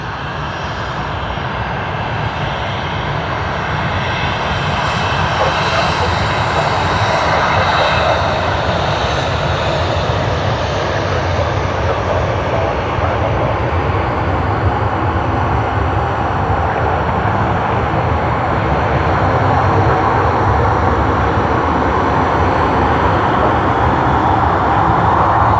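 Aircraft taxi at Sydney Airport with a loud, steady jet engine roar and a constant broadband rumble that carries on unbroken for the whole stretch.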